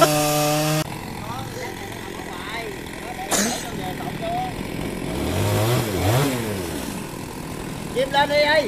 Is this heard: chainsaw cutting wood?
yes